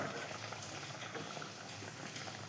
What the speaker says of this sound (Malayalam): നല്ലവണ്ണം തിളച്ചിട്ടുണ്ട്